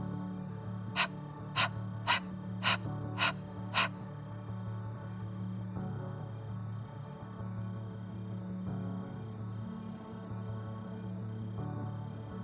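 Six sharp, evenly spaced breaths mark rhythmic yoga breathing in a flow class, each a quick forceful puff, followed by quieter sustained breathing under a low musical drone.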